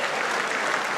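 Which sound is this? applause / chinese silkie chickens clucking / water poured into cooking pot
applause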